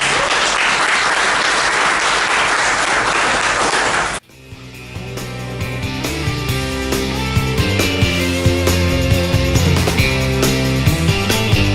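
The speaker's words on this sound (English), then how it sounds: "go ahead and give them a round of applause" An audience at a Big Green Egg Dining in the Dark charity dinner claps loudly and continuously for about four seconds, then the applause cuts off abruptly and music takes over.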